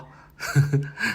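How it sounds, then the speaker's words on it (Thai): Heavy panting from a person climbing a steep path to a hillside temple in Lampang, Thailand, a few close, rough gasping breaths in quick succession, some partly voiced. "เริ่มหอบแล้วนะครับ"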